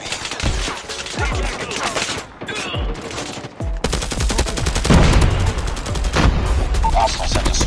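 Rapid heavy gunfire from a shoulder-mounted cannon in a first-person shooter game fills the stretch, with dense repeated bursts, explosions and a brief lull before firing resumes loudly, under game voice callouts.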